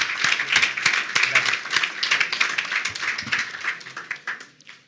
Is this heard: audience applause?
yes